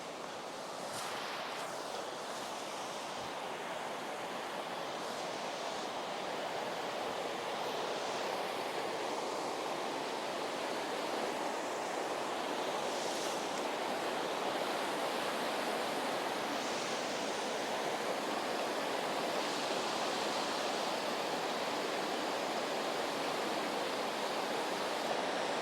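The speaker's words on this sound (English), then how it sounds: "Try the river again." A forest river flows in a continuous, even rush of water, a soft steady broadband wash with no talking over it.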